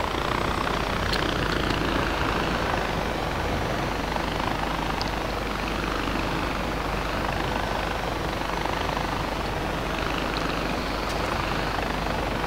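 A helicopter taking off in Far Cry 4, its loud, close, steady rotor roar and engine whine running unbroken throughout.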